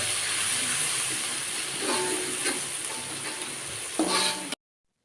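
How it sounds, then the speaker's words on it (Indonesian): Ground spice paste stir-fried in hot oil in a wok, a steady broadband sizzle with a few louder scraping stirs near the end, close and alone. "Kemudian aku masukkan ke dalam wajan yang sudah berisi minyak yang panas. Terus dionseng-onseng supaya matangnya merata."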